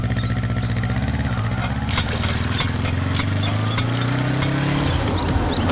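A motorcycle engine drones steadily nearby, its pitch rising and falling as it accelerates, with a rough, buzzing mid-range tone throughout.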